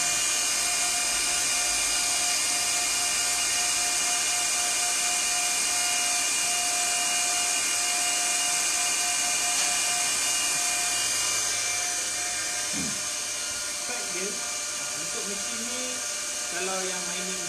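An Antminer T17+ bitcoin mining machine running indoors, a loud steady whirring fan roar with a high-pitched whine held constant throughout, with a voice speaking briefly near the end.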